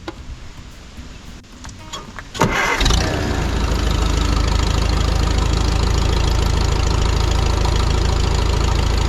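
A Farmall Super C tractor engine cranks briefly with no choke, catches with a loud burst and settles into a steady, close, rumbling idle that runs without a break.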